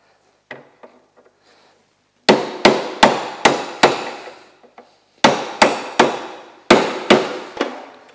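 A hammer knocks out the steering column pin on a 1972 Ski-Doo Elan snowmobile during teardown: a few light taps, then two loud bursts of about five sharp metallic strikes each, close by.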